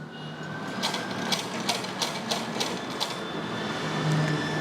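A sewing machine stitches pleats into a blouse puff sleeve, a steady mechanical whir with a run of regular ticking clicks, close and fairly quiet throughout.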